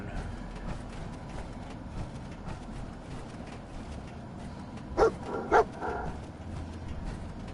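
A dog in the video game Fallout 4 gives two short, clear barks close together, standing out over a low, steady game ambience.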